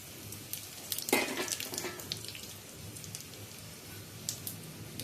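Whole cumin, dried chilli, cardamom, bay leaf and cinnamon hit hot oil in a pan with a sudden close hiss, then settle into a steady, crackling sizzle.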